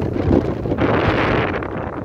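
Cold wind blowing on a rainy day, rough gusty rumble buffeting the microphone in two surges over about two seconds, loud and close with no voices.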